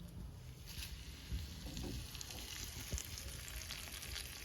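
Curry leaves sizzling in hot oil while a savory chevdo snack is tempered, a faint steady crackle and hiss with small pops and a light stirring scrape.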